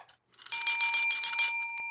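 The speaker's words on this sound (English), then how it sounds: "Let's ring the bell, baby" A bright metallic bell rings in rapid repeated strikes for about a second and a half, then fades with a lingering ring, loud and close, following a couple of faint clicks.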